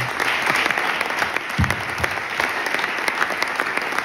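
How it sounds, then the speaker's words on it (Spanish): Applause from a crowd at an awards ceremony for a youth cadet football tournament in Spain, a steady dense clapping that runs through the whole stretch, loud and close, with a brief louder thump partway through. "Vamos a dar un aplauso."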